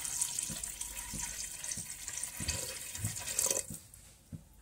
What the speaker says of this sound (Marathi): आता यात थोडं आपण पाणी घालून घेऊ। 2 ग्लास पाणी घालून घ्यायचं आहे।